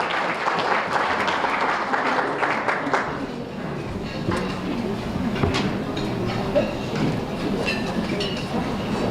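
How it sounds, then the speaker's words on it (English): Audience applause fills a room at a high school basketball association's annual banquet, a dense, steady wash of clapping that thins after a few seconds and continues with scattered claps and crowd murmur. "give him a big round of applause"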